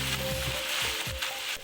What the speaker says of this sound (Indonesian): Ini gorengnya pakai minyak panas